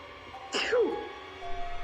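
A single short, sharp sneeze bursts out once against a quiet room with a faint steady hum beneath it.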